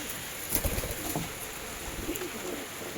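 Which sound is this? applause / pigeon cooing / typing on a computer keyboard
pigeon cooing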